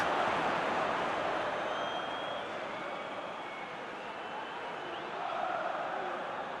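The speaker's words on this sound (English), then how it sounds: "Well, the crowd clearly like what they just saw." Steady, dense roar of a stadium crowd cheering in a football video game match between Spain and Cape Verde, continuous and loud throughout with a slight swell near the end.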